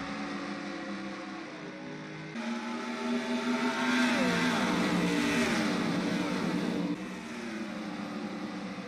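Race cars on an oval track roar back to full throttle at a green flag restart, a loud dense pack of engines climbing in pitch together and sweeping past, with no talk.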